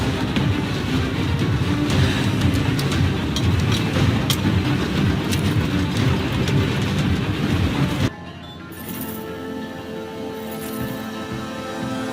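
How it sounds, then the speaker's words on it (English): A heavy, continuous low rumble of a train rolling past with clatter, which cuts off abruptly partway through to a quieter hum. "We got a train to follow!"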